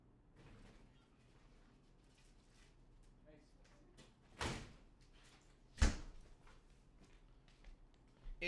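A door is opened and shut at home, two sharp thuds a little over a second apart, the second louder, amid quiet shuffling with faint talking in the background.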